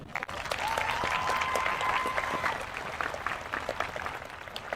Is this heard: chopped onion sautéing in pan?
no